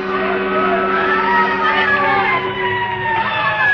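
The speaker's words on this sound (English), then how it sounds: "the roar and scream of the fire engines racing through the city streets" Fire engine sirens wail as the trucks race through city streets, their rising and falling tones loud and continuous over a dense, rumbling street roar.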